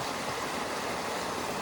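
Continuous even rush of a flowing river beside a public footpath, dense and unbroken, heard alone without speech.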